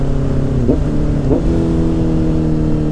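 A Honda CBR 650R motorcycle drones loudly and steadily at close range, with two quick throttle blips that briefly raise the engine note during clutchless upshifts and no voices.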